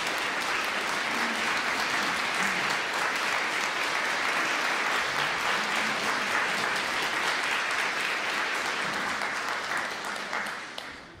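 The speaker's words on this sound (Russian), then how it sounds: "Давайте поприветствуем Юрия Анатольевича аплодисментами." Concert-hall audience applauding to welcome composer Yuri Poteenko at his evening of choral works in Moscow: dense, steady clapping from a large crowd that holds for about ten seconds, then thins and fades at the end.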